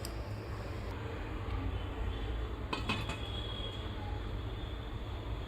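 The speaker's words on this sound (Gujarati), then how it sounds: "તો એકવાર આ રીતે હલાવી અને ઢાંકી દેવાનું છે." Tamarind chutney boiling in a pot is stirred and covered, with a few soft metallic clinks and scrapes of a spoon and lid against the pot over a steady low simmering hiss, no talking.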